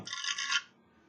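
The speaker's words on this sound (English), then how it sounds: "Quick shuffle." Board game tokens shaken and shuffled inside a cloth chaos bag, a brief close rasping rattle for about half a second that then stops, with no talk.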